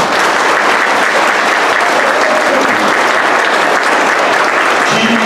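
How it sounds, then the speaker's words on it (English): A banquet crowd gives the Altona Fire Department a loud, sustained round of applause, dense even clapping that fills the room from start to finish with no break. "So I think we need to give Greg and his crew a round of applause."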